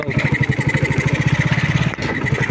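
Motorcycle engine running steadily while riding home, a close, pulsing low-pitched putter with even rhythm and a brief dip near the end.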